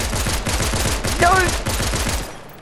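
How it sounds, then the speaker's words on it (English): Pistol gunfire in the video game Fortnite: a fast, loud string of close shots cracking in steady rhythm for about two seconds before stopping. "Wait, are those normal pistols?"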